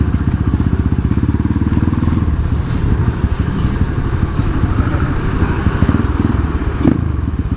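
A Kawasaki KLX motorcycle with a 248 big-bore kit accelerates hard, its close, loud engine throbbing with a rapid, rough exhaust pulse and some clatter throughout.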